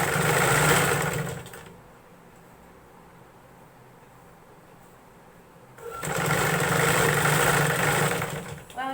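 A sewing machine stitches a folded slit on a top in two close, loud bursts of rapid whirring. A quiet gap separates them, with faint background noise and no talk.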